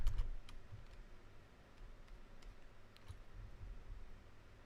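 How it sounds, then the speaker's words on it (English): Someone taps keys on a calculator, producing soft, scattered clicks at a quiet, close level over faint background hiss with no talking. "what I typed on my calculator"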